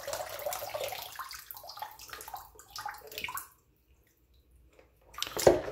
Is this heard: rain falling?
no